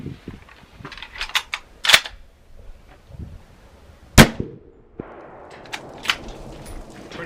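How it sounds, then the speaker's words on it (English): .30-06 rifle firing a 150 grain PowerPoint round over a chronograph outdoors, a single sharp loud report with a short ringing tail, surrounded by fainter clicks and handling noises. "Let's shoot another one."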